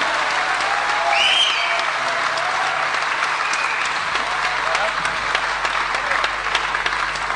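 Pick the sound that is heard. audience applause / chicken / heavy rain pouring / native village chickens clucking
audience applause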